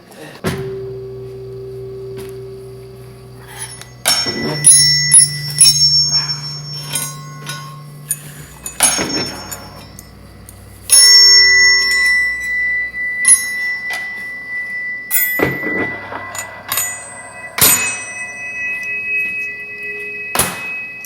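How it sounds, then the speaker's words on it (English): A hanging bell tuned to D rings several times, with bright metallic strikes and lingering overtones that sustain and decay between hits, fairly loud and close. "I have a bell hanging over there that's tuned to a D too."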